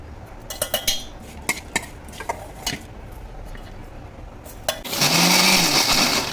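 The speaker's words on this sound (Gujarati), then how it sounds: "મિક્સરમાં ગ્રાઇન્ડ કરી લઈશું" A mixer grinder whirs loudly as it blends dry red garlic chutney, starting after a few scattered clinks of utensils and running as a steady grinding roar for the last couple of seconds, with no talking.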